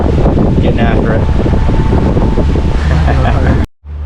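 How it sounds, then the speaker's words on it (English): Strong wind buffets a small tiki boat anchored out at sea, a loud, steady roar of gusts across the microphone that drops out sharply near the end. "Pretty windy if you can't tell. Very windy actually."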